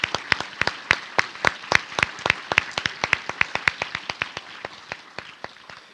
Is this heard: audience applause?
yes